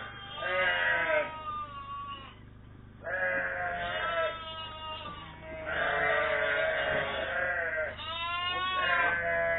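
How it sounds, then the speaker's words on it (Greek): A flock of Chios sheep bleats loudly and close by, with several long, overlapping calls in a row and only short pauses between them. "Σας δείχνω άλλη μια φορά τις προβατίνες που είναι έτοιμες να τις αρμέξουμε."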